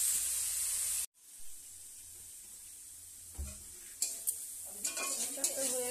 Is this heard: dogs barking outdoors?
no